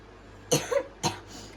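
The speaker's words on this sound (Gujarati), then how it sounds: "મને ખાંસી બીધી છે" Someone coughs twice, close and fairly loud, the first cough with a short double rasp and the second a single sharp burst, in an otherwise quiet room.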